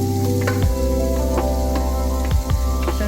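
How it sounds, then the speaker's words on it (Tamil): Chopped onions hit hot melted butter in a pan for spinach pasta, giving a steady close sizzle with a few sharp spits and stir scrapes throughout. "பட்டர் நல்லா மெல்ட் ஆகிட்டு இருக்கும் போது நம்ம இங்கே எடுத்து நறுக்கி வச்சுருக்கேன் வெங்காயத்தை நம்ம சேர்த்துக்கலாம்"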